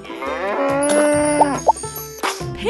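A cartoon cow moos in a baby animal-sounds game, one long sustained moo that slides into playful plop and boing effects, loud and close over light electronic music.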